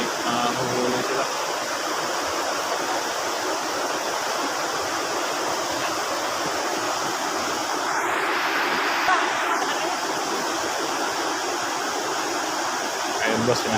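Strong floodwater rushes past in a dense, continuous roar that stays loud and even throughout, with a brief brighter swell near the middle.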